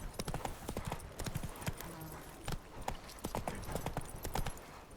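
Horse hooves from Witcher 3: Wild Hunt, the mount galloping in a quick, steady clip-clop rhythm, loud and close, with game ambience beneath and a faint voice at moments.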